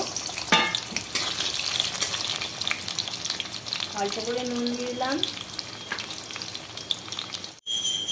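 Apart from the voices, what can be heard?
potatoes frying in mustard oil in a wok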